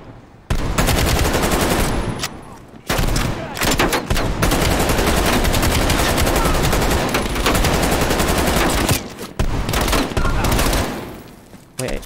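Rapid, loud gunfire from a shotgun and automatic weapons in the Call of Duty: Black Ops Cold War campaign, sustained volleys with a few brief pauses, dense and close throughout.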